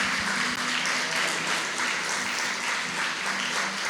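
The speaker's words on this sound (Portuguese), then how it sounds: "Você pode aplaudir ao Senhor?" Church congregation applauding during a sermon, a continuous, even roar of many hands clapping with faint voices underneath, sustained and full.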